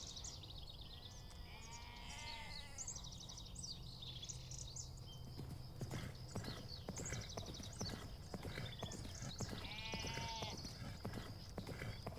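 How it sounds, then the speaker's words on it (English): Horse hooves clip-clop steadily in a galloping rhythm on a farm, mixed with sheep bleating and other farm animal calls in a busy, continuous outdoor soundscape. "Listen for the sound of a galloping horse"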